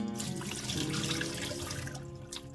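Razor clams being rinsed clean under running tap water, a steady close rush of flowing water splashing in a sink without pause and with no speech.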